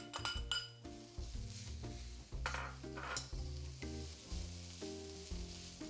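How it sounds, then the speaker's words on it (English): Green beans and minced pork being stir-fried in a wok, a soft sizzle under repeated scraping and clinking of a utensil against the metal, with faint background music throughout. "Return the green beans to the wok, stir and blend them with other ingredients"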